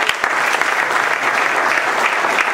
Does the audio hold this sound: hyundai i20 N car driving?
no